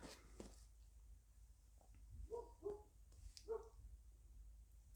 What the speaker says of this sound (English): So I'm sorry about the dog barking.